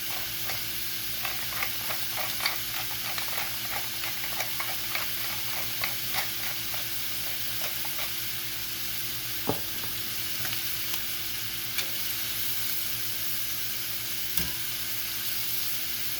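Beef for Philly cheesesteak frying in a pan on high heat, a steady sizzle with scattered crackles and occasional spatula scrapes and stirring clicks, close and alone.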